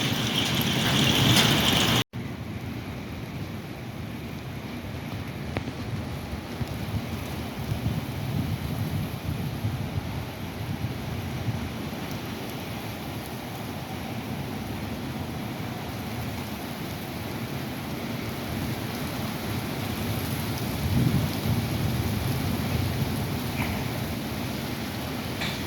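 A hailstorm with thunder and wind rumbles outdoors as a dense, steady roar of hail and rain with low thunder underneath, after a brief sharp burst at the start, continuous and without talk.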